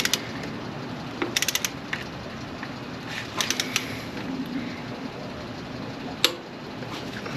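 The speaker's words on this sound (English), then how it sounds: "I'm gonna tighten up these bolts" A hand ratchet clicks in short bursts while bolts on a thermostat housing are tightened on an 80 series, close by with brief pauses between runs and a sharp knock near the end.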